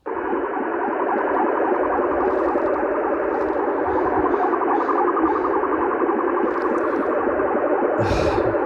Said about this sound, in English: you're sending SSTV right on top of me